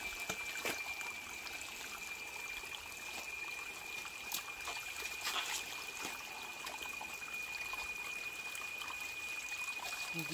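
A forest stream in a survival setting trickles steadily and softly, a constant watery hiss with faint scattered clicks, heard alone without voices.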